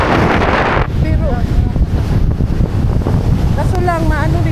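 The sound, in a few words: strong wind blowing outdoors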